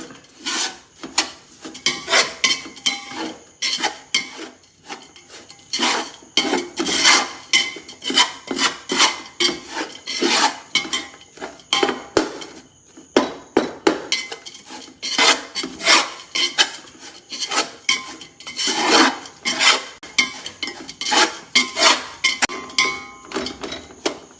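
Chili powder stirred and scraped in a pan while making garlic pickle, giving repeated rasping, scratching strokes in an irregular rhythm, close and fairly loud, with no talk.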